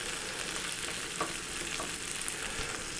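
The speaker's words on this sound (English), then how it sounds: "The onions are on in the frying pan." Onions fry in an ordinary frying pan on a small stove, giving a soft, steady sizzle with faint crackles, close by and alone.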